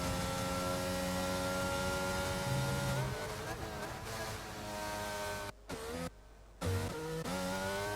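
Race car engine on a fast lap in a racing video game, a steady high whine with shifting pitch through gear changes and corners, heard under commentary talk.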